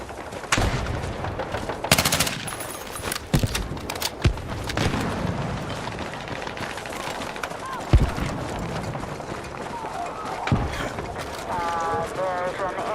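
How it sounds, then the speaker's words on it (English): SMG fire in the Battlefield 6 beta, with rapid automatic bursts and scattered gunshots amid battlefield noise and footsteps across a busy match, while a person talks over the action. "Let's try the SMG."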